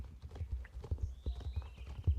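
Horses clip-clop in a video game, their hooves beating a quick, steady rhythm of soft thuds, moderately near and faint.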